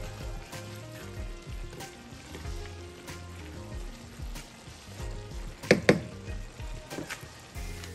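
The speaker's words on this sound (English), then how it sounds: "I'm gonna let these simmer and let them cook" Collard, broccoli and broccolini greens cooking in a pot on the stove, a continuous bubbling sizzle with scattered clinks and a couple of louder knocks, no talking.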